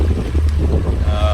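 A Regal 2665 motorboat engine hums steadily on plane in Sturgeon Bay, with wind buffeting the microphone, and a higher engine whine rises near the end.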